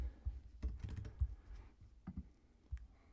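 Someone types a short value on a computer keyboard while editing a photo, a quick cluster of light clicking keystrokes followed by a few scattered, softer taps, close and quiet with no talking.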